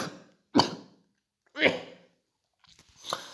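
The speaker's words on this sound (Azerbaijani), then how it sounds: "üzürlü sayım biraz öskürməyim gəldi." A man gives three short, separate coughs spaced about a second apart, close to the microphone, with quiet gaps in between.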